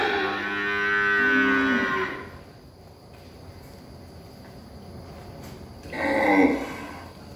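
Beef cattle at a cattle trading site let out a long, loud moo, then a second shorter one after a pause, close by over steady insect buzzing in the background.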